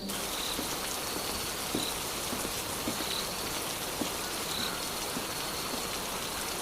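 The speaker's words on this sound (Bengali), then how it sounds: "শুধু বৃষ্টির শব্দ" Heavy rain pours at night over a muddy village road, making a dense, steady, even hiss that stays close and loud throughout, with faint insect-like tones underneath and no voices.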